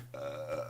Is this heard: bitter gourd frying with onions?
no